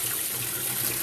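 Water rushes steadily into a Whirlpool WTW5300SQ0 top-load washing machine set to warm, with both inlet valves open. It makes a continuous, even hiss of filling, close by and with no talking.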